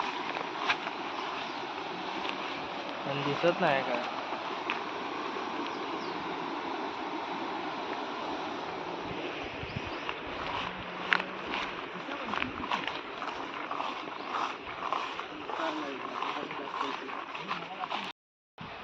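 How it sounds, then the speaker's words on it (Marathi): Loud, steady rushing of water released from a dam roars close by, continuous throughout, while people talk over it now and then. "हा जोरात आवाज येतो पाण्याचा"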